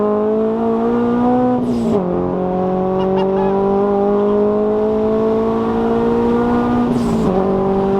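A supercharged Subaru BRZ on a dyno holds a loud, steady high-revving engine note, with two brief dips where the pitch drops and climbs again, heard alone without talk.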